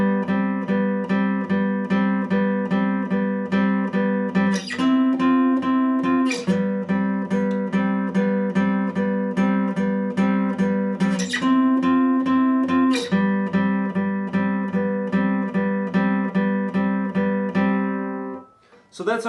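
Guitar plays the bridge chord progression of a song three times through at full speed, steady strummed chords ringing loud and alone with brief accents at each pass, fading out at the end.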